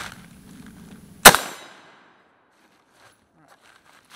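A single sharp rifle report from a modded 5.56 Galil ACE with an 11.5-inch barrel, loud and close, with a short ringing decay into near silence. It stands alone, with faint background noise before it and no talk.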